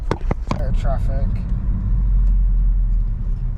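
A Ford Focus ST engine, still cold, rumbles low and steady from inside the car while driving, with a few brief sounds near the start.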